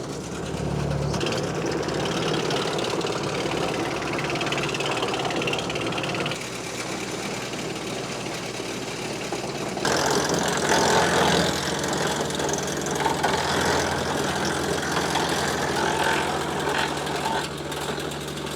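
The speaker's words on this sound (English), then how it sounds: "This maple should chip nice. Just sucking that right in." A wood chipper feeds and chips maple wood during land clearing, a loud continuous engine roar with grinding and crunching, shifting to a harsher, brighter chipping tone partway through as the wood is pulled in.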